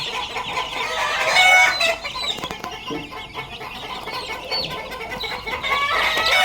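Three-week-old chicks in Bulacan, just placed in a double box, peep and cheep in a busy, close chorus of high calls, with some rustling and wing flaps.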